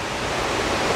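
Efrata waterfall on Samosir island by Lake Toba, a steady broad rushing roar of falling water, close and constant with no other sounds.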